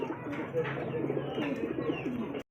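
Pigeons, including a pair of Giribaz pigeons, coo and murmur steadily at a busy pigeon market, with a voice talking over the continuous bird sounds throughout.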